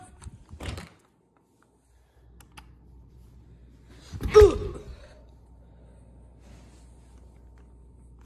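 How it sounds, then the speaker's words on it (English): A door closes indoors during a frigid winter storm with a sharp, fairly loud thump and rattle midway, after a short earlier knock and some faint sighing. "Why'd you close the door?"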